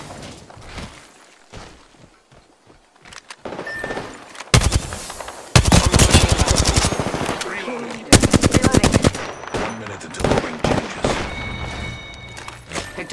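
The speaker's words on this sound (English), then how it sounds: "The enemies are shooting at me." Automatic and single gunshots in the video game Apex Legends rattle out in dense bursts and long rapid volleys, loud and close, with brief quieter gaps between exchanges of fire.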